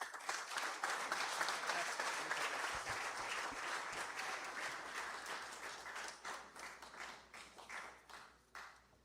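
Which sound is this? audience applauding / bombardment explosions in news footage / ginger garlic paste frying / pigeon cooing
audience applauding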